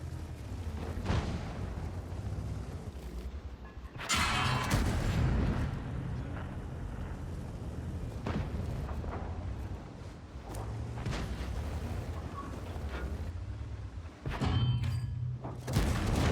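Heavy tank cannon salvos from the VLKODAV in an online tank battle game, a run of loud booming thuds with a big blast near four seconds and another near fourteen, over constant low engine and battle rumble.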